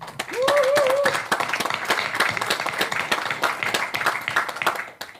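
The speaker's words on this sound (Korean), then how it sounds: "이때는 박수를 쳐야 돼요." An audience claps at a book concert in the Yeongkwang Bookstore culture hall in Busan. A voice sounds briefly at the start, then a scattered, crackling round of hand claps carries on and fades near the end.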